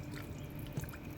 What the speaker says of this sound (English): Now we're just gonna pour some Supligen over this.